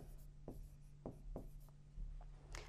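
A pen writes numbers by hand on paper in a quiet room during a children's decimals maths lesson, producing a few soft, separate scratching strokes under a faint steady hum.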